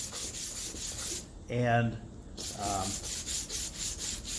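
Sandpaper of 600 grit rubs by hand over a metal casting in circular strokes, a soft, steady scratching hiss, briefly overlaid by a short spoken word.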